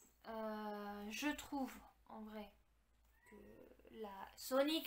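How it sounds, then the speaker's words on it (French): A house cat meows several times, drawn-out and close, mixing with a person talking nearby and rising loudest near the end. "excusez-moi, c'est mon chat"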